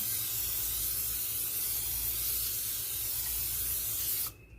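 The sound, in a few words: cooking spray greasing a pan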